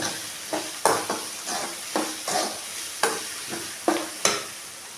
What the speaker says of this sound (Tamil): இப்போ இந்த அளவுக்கு வெங்காயம் வதங்கினா போதும்